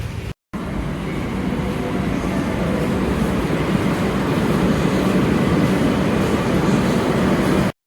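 A metro train ride, with loud continuous rumbling and roaring of the carriage in motion, steady and close throughout after a brief dropout at the start.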